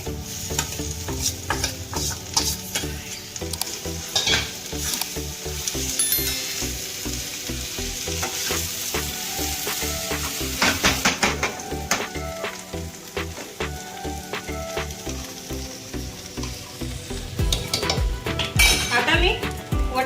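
Mashed potatoes added to a hot pan for ragda puri, sizzling and frying under steady stirring, with a spoon repeatedly scraping and clinking against the metal pan up close.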